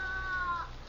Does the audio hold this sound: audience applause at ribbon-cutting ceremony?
no